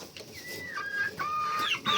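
Hens clucking nearby while eating cheese, short rising and falling calls, several hens overlapping in a busy, continuous chatter.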